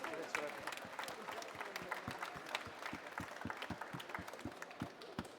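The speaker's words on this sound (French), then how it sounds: "Je crois qu'on peut applaudir la Massif" A seated audience at a regional senior trophy final claps for a partner, with distinct sharp hand claps standing out over a softer crowd murmur, steady and moderately loud, with some talk mixed in.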